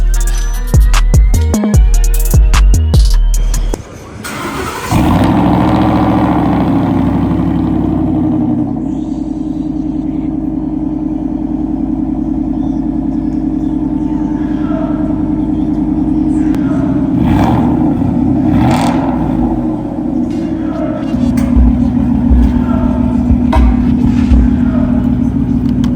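A Ford F150 with a Borla Atak exhaust and an SPD catted Y-pipe, rumbling loudly at close range, with revving bursts at the start and a steady deep idle drone after.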